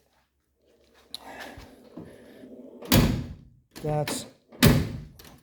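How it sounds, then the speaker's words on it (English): Car doors on a 1957 Chevrolet Bel Air with new, unseated gaskets slam shut three times in quick succession, loud heavy thuds, after someone speaks briefly. "these are hard to close. New gaskets, not seated yet."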